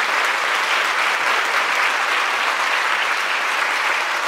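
Loud, dense audience applause at a foundation charity gala, steady and unbroken throughout with no voices over it.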